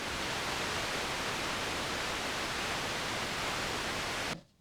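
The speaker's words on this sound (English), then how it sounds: "this knob is the noise knob. And noise is a really useful thing to have." Steady noise oscillator on a Moog Matriarch synthesizer, a broad hiss like rushing static held evenly at full level for over four seconds, then abruptly cut off near the end.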